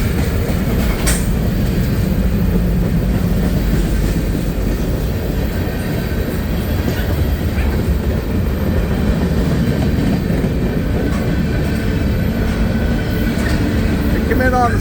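A CSX manifest freight train led by five locomotives, with a mid-train distributed power unit, rolls steadily past at close range on a green signal, its loud continuous rumble and wheel clatter filling the whole span, with occasional talk underneath.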